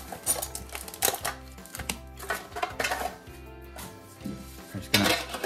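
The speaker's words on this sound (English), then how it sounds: "I'm just gonna put the lid on, set it to the side." Metal lid set onto a Pokemon Eevee card tin, a series of light metallic clinks and taps with soft rattles in between, close and unaccompanied by talk.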